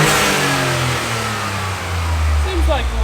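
Toyota GR Corolla engine revving hard with a new valve cover fitted, loud and close in a garage, engine note rising and falling steadily with a deep rumble throughout and a voice briefly heard near the end.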